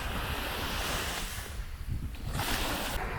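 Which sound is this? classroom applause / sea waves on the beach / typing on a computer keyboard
sea waves on the beach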